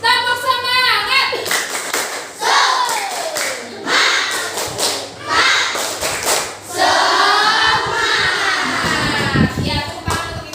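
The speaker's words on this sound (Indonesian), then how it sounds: "Untuk mengawali kegiatan pagi hari ini, kita tepuk semangat dulu ya." A group of children and a teacher doing a rhythmic spirit clap at the start of a school morning session, sharp clap patterns alternating with chanted voices, loud and close.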